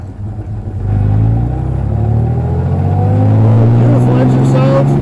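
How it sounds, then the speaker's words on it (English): A 1935 Triumph Gloria open tourer's two-litre Coventry Climax six-cylinder petrol engine starts and pulls away in first gear on a greasy road, a deep, full, steady drone rising in pitch as it accelerates, loud and close. "Beautiful engine sound, nice, dark, and full."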